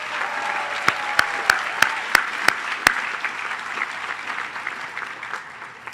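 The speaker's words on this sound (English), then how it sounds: "So big round of applause to our family and friends." A commencement audience at a School of Public Health ceremony applauds family and friends in a soft, diffuse wash of clapping, marked by a series of sharp, evenly spaced claps close by in the first half.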